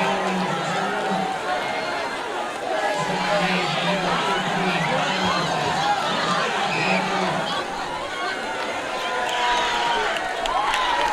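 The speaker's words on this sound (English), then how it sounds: "Good crowd on hand. Good student section right below us." Crowd of fans and a student section at a high school varsity football game, a steady roar of chatter, cheering and scattered shouts filling the air throughout.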